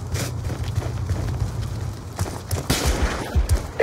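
Distant grenade blast and scattered gunfire in Call of Duty 2, a thin crackle of shots that builds into heavier bursts and booms toward the end, with no talking.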